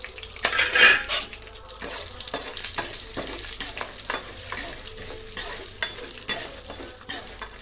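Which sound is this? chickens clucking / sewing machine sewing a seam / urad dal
urad dal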